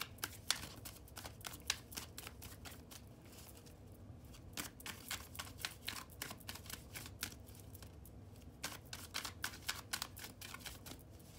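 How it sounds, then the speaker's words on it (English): Tarot cards riffle-shuffled over and over, a quick run of crisp papery flutters repeating in bursts, close to the microphone. "Let's finish shuffling these cards."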